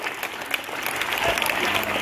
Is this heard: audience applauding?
yes